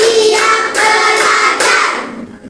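A class of children clapping in unison during a counting clap game, with about three loud group bursts in even rhythm before trailing off, near and without voices.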